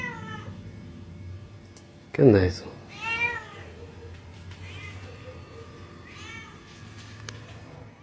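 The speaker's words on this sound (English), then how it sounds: "disturbed by a cat crying." A cat cries at night with a few plaintive, wavering meows spaced over several seconds, one sharp loud yowl standing out, while a person speaks briefly in the background.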